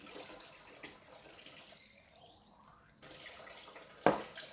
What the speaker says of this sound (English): Put a bit of water in there, fill it up,